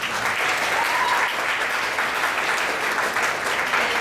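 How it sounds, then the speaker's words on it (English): Audience at the Folklorama festival giving steady, continuous applause for the volunteers and sponsors, a moderate, even wash of many hands clapping throughout. "let's give them a round of applause"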